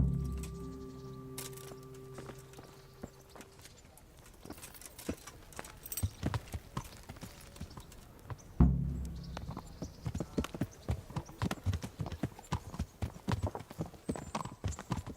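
Horse hooves clip-clop steadily as a rider travels on horseback in the medieval game Kingdom Come: Deliverance. A louder, denser run of hoofbeats picks up partway through, and faint birdsong sits in the background.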